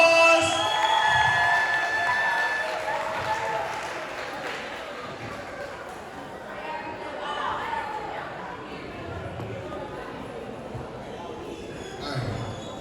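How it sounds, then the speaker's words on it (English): Middle school students at Brooklyn Lab cheer, whoop and clap as their principal is introduced, loudest at the start and then settling into crowd noise and voices, with a louder burst near the end. "Give a round of applause."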